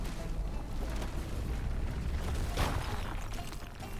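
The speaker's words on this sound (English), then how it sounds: "Let's get a rock explosion down there." Rock explosion set off at an ore deposit in RuneScape: Dragonwilds, a steady low rumbling boom with a brief burst swelling near the middle and fading back into the rumble.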